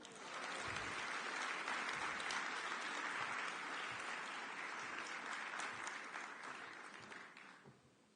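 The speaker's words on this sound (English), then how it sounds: "a round of applause as they celebrate their anniversary today" Sustained applause from a conference audience at a Bahamas session, honouring a couple's anniversary; dense, even clapping fills the stretch and fades out toward the end.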